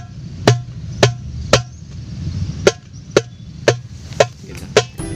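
Slap strokes on a darbuka: about nine sharp, dry hand strikes at a loose, uneven pace, close and loud with no talking.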